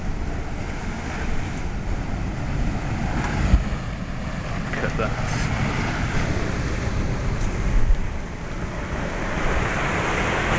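Heavy surf pounds a beach path at West Whale Bay on the South Shore ahead of Hurricane Igor, a continuous roar of crashing waves with strong undertow, buffeted by wind noise; a voice speaks briefly over it.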